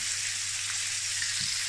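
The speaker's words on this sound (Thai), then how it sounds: "เสร็จแล้วเราก็จะทอดเขาให้เหลือง ประมาณนี้เห็นปะ ทุกด้านเลยนะเราก็จะทอดเขา" Pork ribs frying in hot oil until golden, a steady, dense sizzle close up that holds evenly for the whole moment with no voices.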